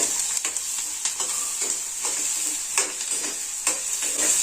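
Onions sizzle steadily in a pan while a spoon stirs them with repeated light scraping strokes, loud and close, cooking down for paneer bhurji.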